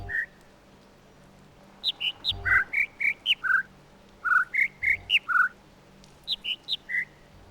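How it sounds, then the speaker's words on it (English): Birds in The Witness video game chirp in short whistled notes, several quick runs of clear pitched tweets rising and falling in distinct groups over a quiet background. "The last one we just heard chirping, that's the one you need to focus because he has only 4 notes."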